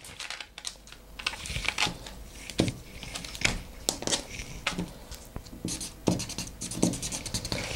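Pen marking a 6.5-inch measurement on pattern paper for a skirt, close, irregular scratchy strokes and taps in quick bursts, no voice.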